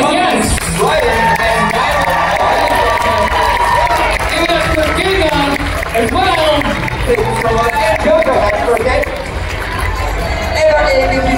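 A loud crowd cheers, whoops and claps at a dance competition awards event, a continuous roar of voices with scattered clapping and an excited announcer speaking over it throughout.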